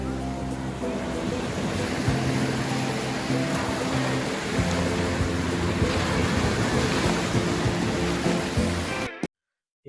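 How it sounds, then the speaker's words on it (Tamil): Loud sea waves surge and wash continuously at Ariyaman Beach in Rameswaram, with wind buffeting the microphone, until the sound cuts off abruptly near the end. "இப்போ நம்ம கடல்ல குளிச்சுட்டு இருக்கோங்க. ஆனா அலை லைட்டா வருது."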